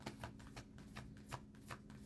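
Tarot cards are shuffled close by in a steady run of soft, rhythmic riffles and flicks, with no other sound over them.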